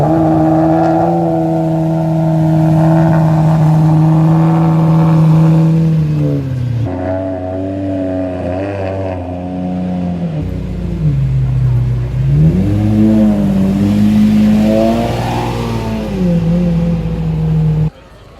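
A 2.5-litre five-cylinder turbocharged car engine revs loudly and continuously, its pitch climbing, dropping and rising again as the throttle is worked, close and dominant.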